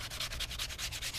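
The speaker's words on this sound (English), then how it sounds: "sand these faceplate covers down for our new 12 volt and our new GFI that are in the head" Wooden faceplate covers are hand-sanded with quick back-and-forth strokes, a close rhythmic scratchy rasp repeating about five times per second, with no voices.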